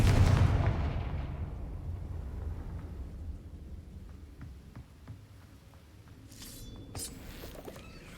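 A Confringo blast spell from the Hogwarts Legacy video game erupts in a loud boom at the start, rumbling and fading over several seconds, with faint crackles and a brief bright shimmer near the end.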